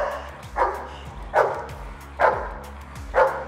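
A German Shepherd barks during protection dog training, four loud single barks spaced roughly evenly about a second apart, close to the listener, with low background rumble and no speech.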